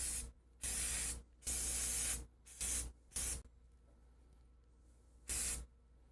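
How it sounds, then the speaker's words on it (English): Chalk spray paint hisses from a can in five short bursts of about half a second to a second each, loud and close, with quiet gaps between them. "Oh, whoops, I already sprayed."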